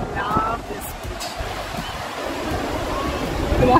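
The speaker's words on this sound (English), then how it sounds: "And this is the great, great Arambol beach." Waves wash onto Arambol beach in Goa with gusting wind buffeting the microphone, a steady roaring surf that swells louder toward the end.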